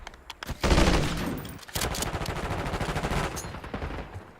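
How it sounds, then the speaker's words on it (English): Rapid automatic gunfire from a video game match against multiple Chris Redfield characters bursts loudly in dense rattling volleys, with a short pause before another sustained stream of shots. "Yeah, I just killed 2 Chris Redfields"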